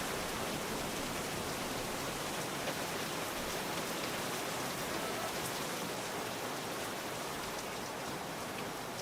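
Steady rain falls in the VR hunting game Virtual Hunter, a dense, even hiss of drops on surfaces that runs unbroken and fairly quiet throughout, with no talking.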